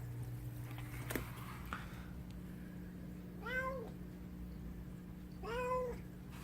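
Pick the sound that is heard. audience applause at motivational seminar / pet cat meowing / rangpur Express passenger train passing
pet cat meowing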